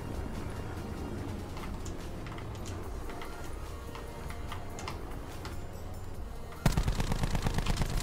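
Rapid gunfire from an Auger gun in the video game Blackout, a dense stream of sharp, evenly spaced shots that turns louder and heavier near the end, with no voices over it.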